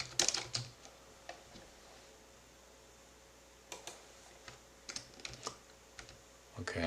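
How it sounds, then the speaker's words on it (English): Keystrokes on a computer keyboard as a name is typed, a short burst of clicks at the start and another cluster of taps near the end, with a quiet pause between and a faint steady hum underneath. "Okay, I type my name."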